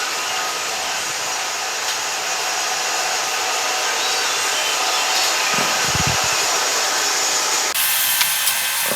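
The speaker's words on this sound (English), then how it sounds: "I'm back in the metal lathe now, and the two pieces I cut off, I'm going to face them off to length." A metal lathe spins steadily while facing cut metal pieces to length, a loud continuous whirring hum with a faint scraping edge and a slight shift in tone near the end.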